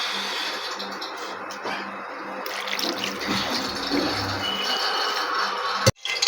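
Raw mutton, about half a kilo, washed under running water in a kitchen sink, with a steady close splashing stream and a sharp knock near the end.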